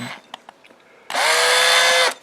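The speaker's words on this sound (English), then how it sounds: "Drill it out just enough so that they will slip on here, and you can move them." A power drill bores out small robot parts: a few faint taps and clicks, then one loud, steady whirring burst of about a second, close by and alone.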